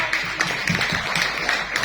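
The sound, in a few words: audience applause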